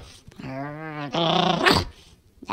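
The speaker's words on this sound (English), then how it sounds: "It's like a bark and growl at it" A dog growls in a long, rough, drawn-out rumble, then gives a sharper bark-like burst, close and fairly loud, with no talking.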